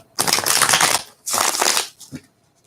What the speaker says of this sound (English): Give it a couple final shuffles.